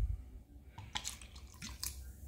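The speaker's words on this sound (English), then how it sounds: "I'm going to just splash in a little bit of this porter" Porter beer splashed from a bottle into a pot of BBQ baked beans: a few short, close liquid splashes and drips against quiet kitchen background, with no speech.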